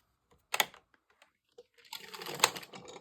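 Addi 46-needle circular knitting machine being cranked through rows of white yarn, giving brief clattering bursts then a denser run of rapid plastic clicks and rattles, close and fairly quiet, with no talking.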